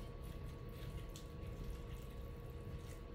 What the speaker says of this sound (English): And you can see the water coming off of that too.